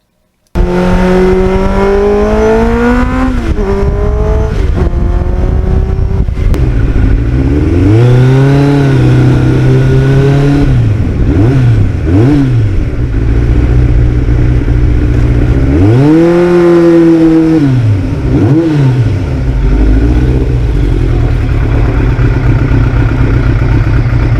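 A restored 32-year-old Kawasaki Ninja motorcycle ridden on roads in North Jersey. Its loud, close engine hums steadily and rises and falls through gear changes and throttle blips.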